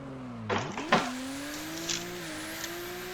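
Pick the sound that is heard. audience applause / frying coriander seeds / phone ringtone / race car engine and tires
race car engine and tires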